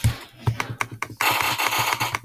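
Rapid computer keyboard clicking while playing the game Shell Shockers, a string of individual key taps followed by a quicker, denser burst of typing, close to the microphone.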